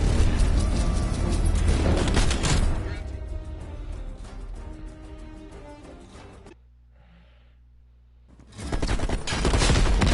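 Sustained automatic gunfire and explosions in Call of Duty Black Ops Cold War, a loud dense barrage for several seconds that thins out and drops to near silence before another loud burst of fire returns.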